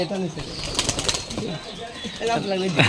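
Giribaj pigeons at a pigeon farm coo and flap their wings nearby while people talk over them.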